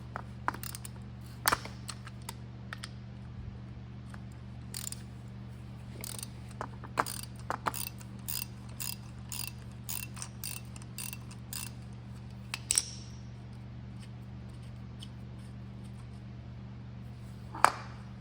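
A ratchet wrench turns a 13 mm nut on a Chevy truck starter, giving a series of sharp, close clicks in irregular bursts over a steady background hum, with a final louder click near the end.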